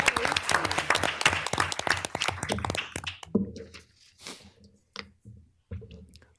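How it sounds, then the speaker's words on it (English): Applause at a school board meeting for a student taekwondo champion, dense clapping for about three seconds before it breaks into a few scattered, isolated claps with quiet gaps. "Can we give it a round of applause for Lucy?"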